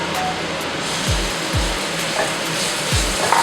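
Pork hitting a hot wok with chili paste for a basil stir-fry, giving a steady broad sizzle with a few low thumps as the meat goes in.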